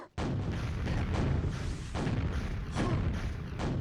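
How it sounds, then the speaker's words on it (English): Rocket launcher explosions in a QuakeWorld duel match: repeated heavy booming blasts in close succession, loud and near, with dense thuds and crashes layered over one another and no voices. "Dago's rockets."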